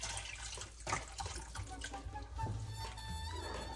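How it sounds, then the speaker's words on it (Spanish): Chicken broth pours into a red wine sauce in a pot for ossobuco, a soft continuous splashing trickle of liquid heard close and fairly quiet with no talk. "Y ahora voy a agregar alrededor de 2 tazas de caldo de pollo."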